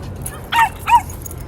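A puppy in a New York City home gives two short, high yips in quick succession, close and fairly loud against a quiet background.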